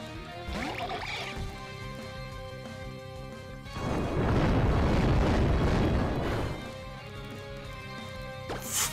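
In-game Explosion move from the Pokemon X video game: a loud, dense synthesized blast that swells and roars for about three seconds over background game music, then fades back to the music.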